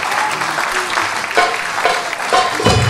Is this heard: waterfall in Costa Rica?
no